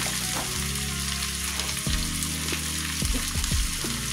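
Peppers and garlic fry in a pan with a steady, close sizzle for a few seconds, broken by a few scraping stirs and clinks of a utensil while making macarrones a la riojana.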